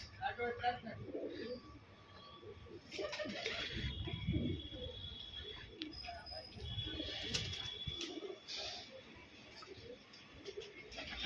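Domestic pigeons cooing in a loft, several soft throaty coos recurring through the clip amid faint bird chatter and background noise.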